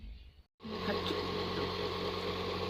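Sewing machine stitching the round seam of palazzo trousers, a steady continuous motor hum and needle whir running for over two seconds after a brief pause at the start.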